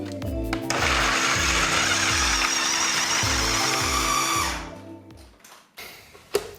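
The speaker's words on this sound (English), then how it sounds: "And then I'm going to process everything so I get a homogeneous and smooth" A food processor whirs steadily, blending dates with other raw ingredients into a thick vegan chocolate brownie dough. The motor is loud and continuous for about four seconds, pulses rhythmically, then cuts off, and a few soft clicks follow.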